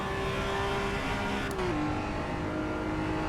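A Honda NSX revs hard in the racing game Assetto Corsa EVO, a loud sustained engine drone whose pitch drops partway through as it shifts, with faint tire noise and no talk.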